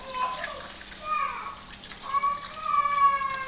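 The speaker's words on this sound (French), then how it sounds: "Je vais mettre de l'eau." Water poured from a tap or jug into a cooking pot on a camping stove, a fairly soft splashing stream that rises and steadies over a few seconds, heard alone.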